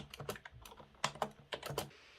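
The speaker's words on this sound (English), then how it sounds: "The keyboard feels amazing for its rubber dome switches." Fingers type on a Microsoft rubber dome keyboard, a quick uneven run of soft key presses, close and quiet with no talking.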